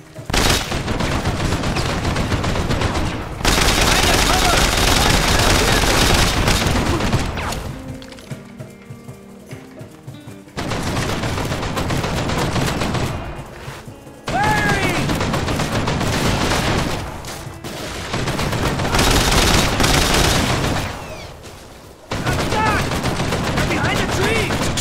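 Heavy .50 cal machine gun fire in Mercenaries 2: World in Flames, loud sustained bursts with crashes, broken by short quieter gaps, with voices shouting over parts.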